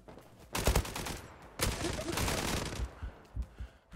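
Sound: gunfire in the video game Zula

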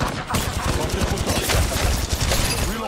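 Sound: gunfire in Apex Legends Mobile video game

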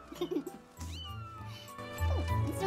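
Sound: cat meowing in Zelda Skyward Sword video game

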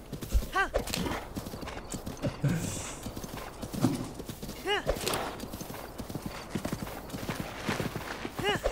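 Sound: horse galloping hooves in video game Zelda Breath of the Wild

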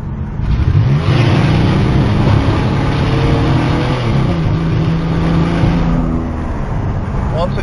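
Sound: car engine revving at full throttle, Honda

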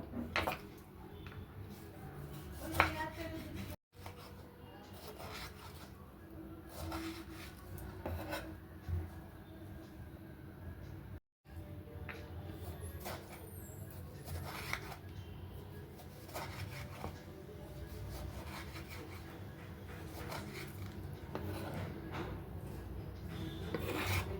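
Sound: chopping two tomatoes

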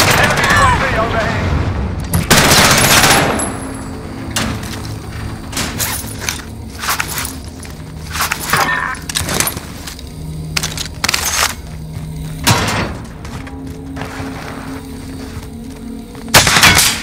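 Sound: gunfire in Call of Duty Warzone, a video game

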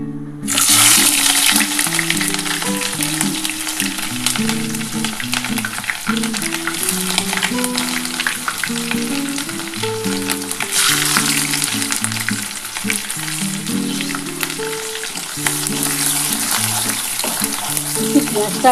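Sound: onions frying in hot oil

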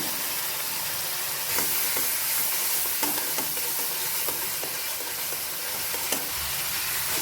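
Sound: spices frying and being stirred in pan

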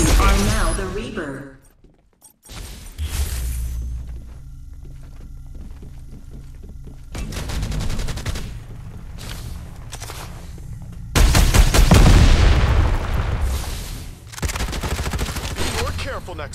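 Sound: gunfire in the video game Farlight 84

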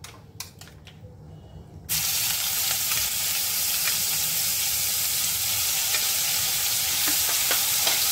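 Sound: onion paste added to frying catfish curry

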